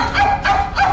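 A dog barks three times in quick succession, loud and close, each bark a short yelping burst.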